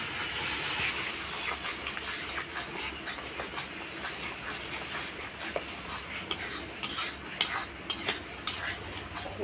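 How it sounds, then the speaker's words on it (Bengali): Spice paste with turmeric and Kashmiri chili powder sautés in a pan, giving a soft continuous sizzle and hiss. A spoon scrapes and taps against the pan now and then, with the stirring clicks growing busier toward the end. "ওই মশলাটাকে আমি কষে নেব"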